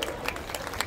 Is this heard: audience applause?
yes